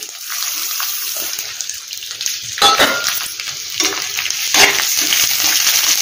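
Chana dal, urad dal, fenugreek and coriander seeds dry-roasting in a pan, a dry rustling crackle with repeated stirring scrapes of a spoon, close and fairly loud throughout.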